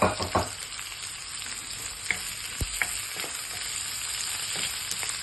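Tomatoes and capsicum frying in a pan for Gobi Manchurian, a steady close sizzle with a few sharp scraping stirs of a spoon against the pan and no voices.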